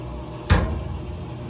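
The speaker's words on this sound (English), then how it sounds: "You can close your lid while it's spinning." A GE washing machine lid shuts with a single dull thump while the drum spins, the low running hum of the machine continuing steadily before and after.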